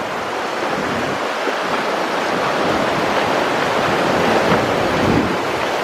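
Floodwaters of the Skookumchuck River rush past houses on a residential street, a steady, loud broadband roar of churning water that holds constant throughout with no voices.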